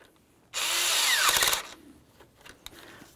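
A power tool tightens the upper radiator hose clamp on a 2004-2015 Nissan Titan, letting out one loud, high whirring burst of about a second, followed by faint handling noises and a small click.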